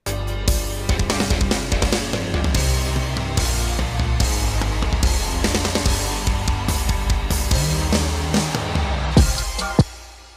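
Programmed live-style drums played back in Presonus Studio One 5, a dense, loud kit groove with steady kick, snare and cymbal hits in a full mix, ending in a final crash and decay.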